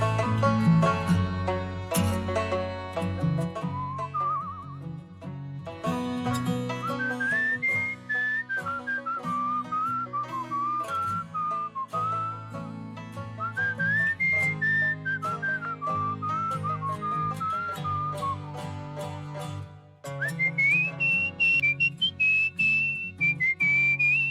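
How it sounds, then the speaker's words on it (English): A person whistles a lively, wandering melody with trills and slides, loud and close over a steady musical backing, continuing without pause for the whole span. "God, I wish I could whistle like this."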